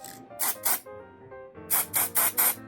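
Cheap aerosol body paint sprayed in short hissing bursts: two quick sprays, a pause, then four more close, loud bursts in a steady rhythm.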